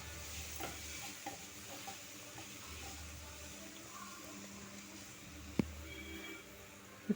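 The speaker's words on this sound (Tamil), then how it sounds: "சேர்த்து நல்லா மிக்ஸ் பண்ணிக்கணும்." A spiced chilli paneer sauce with soy sauce and vinegar sizzles softly in a frying pan as a spoon stirs it, giving a steady low hiss with scattered scrapes and a couple of sharp clinks, faint and close.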